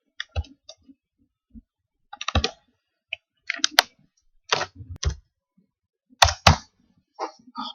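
A noisy computer keyboard clicking during CAD software work, with scattered sharp key clicks and short clusters of typing, close and fairly loud against near silence between strokes, with no speech.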